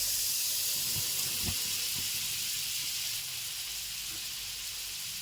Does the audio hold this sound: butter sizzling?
yes